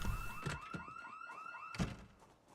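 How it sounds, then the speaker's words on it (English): A car alarm in the video game Project Zomboid whoops in a steady, repeating rising pattern, bracketed by dull thuds at the start and near the end. "Okay, the alarm is stopped."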